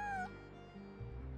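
A cat in the Genshin Impact video game gives one clear, bright meow that slides downward, followed by soft ambient game background sound.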